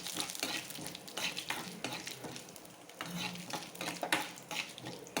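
Urad dal and mustard seeds fry in hot oil for a Tamil kothavarangai poriyal, a close, steady crackling sizzle broken by repeated scrapes and taps of a spoon stirring against the pan.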